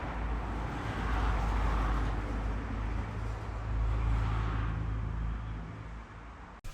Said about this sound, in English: So I live in front of quite a busy road.